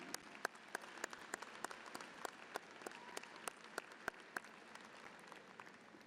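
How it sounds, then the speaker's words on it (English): Graduates' families at the 2021 Princeton graduation are applauded, with sustained crowd clapping that carries sharp individual claps popping out at irregular intervals over a steady roar. "Let's give them a big round of applause."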